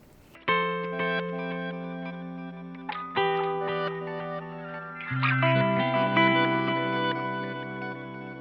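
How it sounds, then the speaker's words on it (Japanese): Sustained electric guitar chords through the Ice delay of a Zoom MS-50G MultiStomp pedal, drenched in a shimmering, pitch-shifted, reverse-tinged delay, with notes ringing and repeating in layers, played alone. "島っぽい音と、あとはリバースディレイみたいなのが入ってて、すごい面白い音ですよね"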